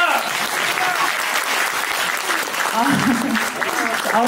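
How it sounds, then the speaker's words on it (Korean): A crowd applauds at a political talk concert, sustained dense clapping that holds steady for several seconds, with a voice speaking over it near the end. "다시 한번 큰 박수 부탁드립니다"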